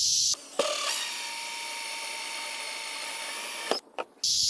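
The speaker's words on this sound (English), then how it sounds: "So that's why I'm drilling these holes in here." A power drill bores holes through the thick plastic hull of a Jackson Bite fishing kayak, a loud steady whine lasting several seconds that starts and stops abruptly.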